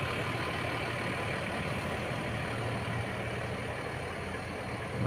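A Mercedes-Benz 1626 NG bus sits idling, its engine giving a steady, unbroken low rumble with a broadband hiss on top. The sound holds constant throughout and no voices come in.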